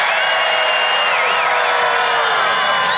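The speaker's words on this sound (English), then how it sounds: "This is a big, big, beautiful crowd." A big rally crowd in Butler, Pennsylvania roars in a steady, loud wash of cheering and shouting that holds without a break, with a few high whoops rising above it.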